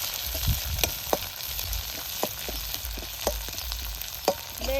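Garlic and coconut roasting in a pan for aamti give a quiet, steady sizzle broken by scraping stirs and spatula knocks against the pan, with no voices.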